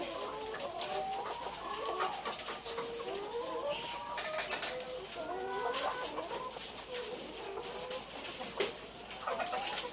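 Laying hens cluck and chatter in a busy chorus of overlapping, rising and falling calls that continues for several seconds at close range over a soft background hiss.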